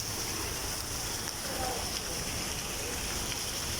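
Heavy rain pours down in a steady, dense wash of broadband hiss that holds constant throughout, close and loud, with no pauses or breaks.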